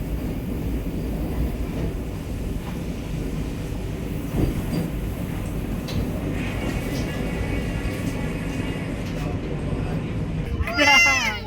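A Howrah–New Jalpaiguri Vande Bharat Express rolls into Barsoi Junction station with a steady rumble and clatter of wheels on the rails. A high squeal of brakes rises near the end.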